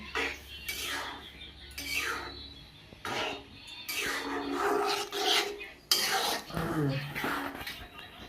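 Paneer and vegetable curry stirred in a pan with a metal spatula, giving repeated scraping and rasping strokes in bursts, close up, with a faint voice briefly in the background.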